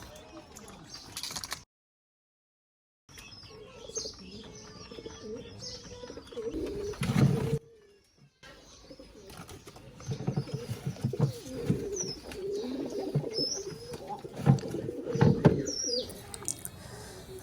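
Pigeons on a pigeon farm coo in soft, repeated low murmurs with occasional chirps, fairly faint and broken by short silent gaps, while someone talks over them.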